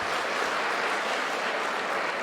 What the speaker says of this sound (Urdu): تو تالی آپ بھی بجائیے نا